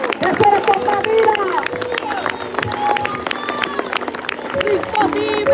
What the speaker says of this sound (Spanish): No, si ese aplauso fue por mi gracia, pero si es para él, déselo con más vida.